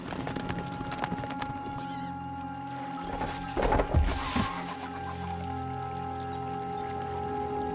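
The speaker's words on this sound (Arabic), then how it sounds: "الفرس تعدو." Horses in Stronghold Crusader HD gallop and neigh amid steady humming game background, with a louder burst of hoofbeats and whinnying in the middle, moderately close.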